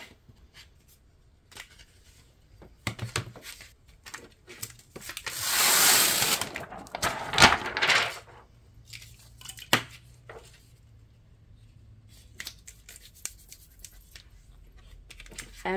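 A small piece of basswood, about five centimeters square, being cut by a machine in a quick burst of broadband cutting noise, bracketed by scattered clicks and handling taps from a small workshop.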